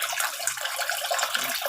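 Fresh water pours steadily into a concrete tilapia pond built in a former pig pen, a continuous close splashing rush with no voices.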